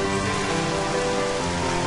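Steady rain falling on surfaces in the Twilight Princess video game, a dense continuous hiss of drops with no voices, even and unbroken throughout.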